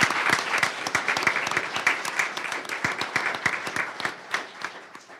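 Round of applause at a school governing board meeting, close and loud, with crisp individual claps forming a lively, uneven rhythm throughout.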